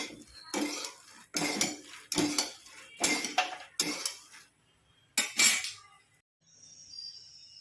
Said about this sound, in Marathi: मखाने आपले छानपैकी परतून झालेले आहेत